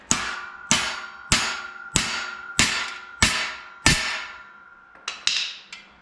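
Hammer blows tap a swingarm bushing into a 1981 Can-Am motocross bike, seven sharp evenly spaced metallic strikes ringing close and loud, followed by three quicker, lighter taps.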